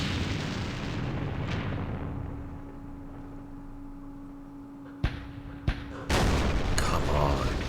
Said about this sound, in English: there's one good hit on the mortar